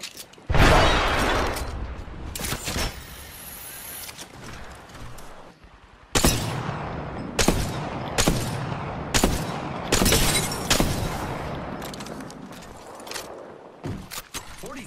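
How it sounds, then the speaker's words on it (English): Grenade explosions and bursts of gunfire in the Apex Legends battle royale, a series of sharp loud blasts and shattering cracks with brief gaps between them. "Grenade, watch out."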